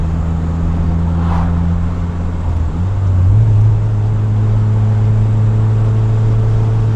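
Turbocharged Honda Civic engine heard from inside while driving, a loud steady drone with a low hum that rises in pitch midway as the revs climb, then holds level.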